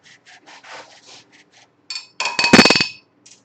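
Chocolate being grated into a bowl for double chocolate keto muffins: short dry rasping strokes, light and sparse at first, then a louder burst of quick scraping passes, close up.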